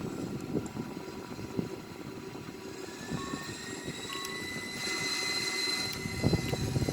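An Airbus A340-300 taxis in a flight simulator game, giving a steady low engine rumble with faint whining tones above it and no talk.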